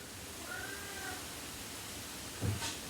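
A cat gives a faint, drawn-out meow during grill assembly indoors, followed by a brief louder thump, over a steady background hiss.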